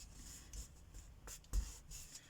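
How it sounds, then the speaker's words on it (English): A circle of card is folded in half, close soft scraping and rubbing with a couple of firmer presses as the crease is made, quiet and without speech. "Then I'm going to fold that circle in half like this"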